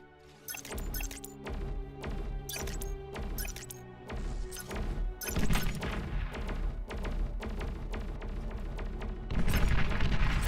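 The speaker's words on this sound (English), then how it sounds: "Explosion took out one of them" Explosions in the real-time strategy game Beyond All Reason, a series of sharp crashing bursts and rumbling blasts at uneven intervals, growing denser and louder toward the end with no speech.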